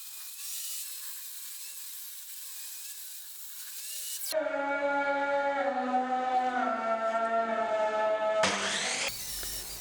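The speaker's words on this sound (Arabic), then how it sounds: "نشقه للعرض المناسب على منشار الطاولة" A table saw ripping dried wood to width for a dining buffet cabinet, first a high whine of the spinning blade, then a loud tonal screaming cut for several seconds before the blade frees and spins down.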